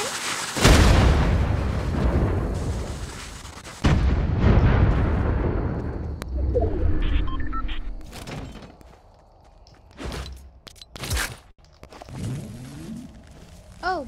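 Dynamite blowing up in the video game Fortnite, with heavy booming blasts up front, then quieter game effects and scattered bursts trailing after.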